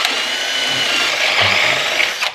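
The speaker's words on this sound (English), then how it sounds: "we're just going to drill the taper out of this" A power drill whines steadily and loudly for a couple of seconds, grinding a taper out of a metal part on an FJ45 rock crawler with a high buzzing tone before winding down.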